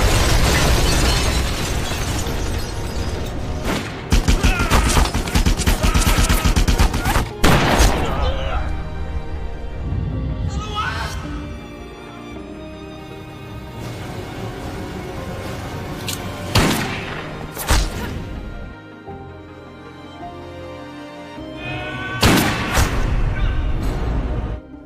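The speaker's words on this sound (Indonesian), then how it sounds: "baku tembak tidak bisa dihindarkan" Film shootout with dense, loud gunfire bursts and heavy explosion booms, several sharp blasts punctuating a continuous roar of battle and score throughout.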